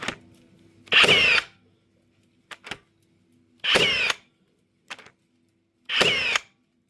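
A Bosch GNB 18V 38 cordless concrete nailer fires three times, each shot a sharp burst of about half a second spaced roughly two and a half seconds apart, with small clicks of the mechanism in between.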